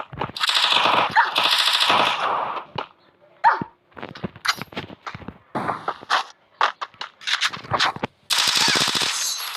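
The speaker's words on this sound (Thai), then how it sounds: "เขากระโดดยิง" Rapid gunfire bursts ring out in the Free Fire video game as a character jumps and shoots, loud rattling volleys broken by short pauses and scattered single shots.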